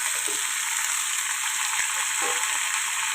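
Chopped pumpkin fries in oil with chillies and curry leaves, giving a loud, dense, continuous sizzle close by, with a couple of soft stirring bumps and a single sharp tap against the pan.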